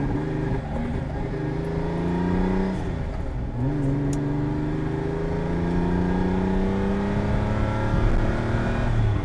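Lamborghini Countach engine revving in the rain, a steady loud mechanical drone with rising and falling pitch sweeps as the revs climb and drop, continuous throughout, with faint talk underneath.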